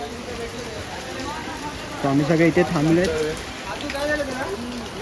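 Heavy rain falls steadily at an outdoor pandal where a mandap is being built, making a constant dense hiss. Someone talks over it close by.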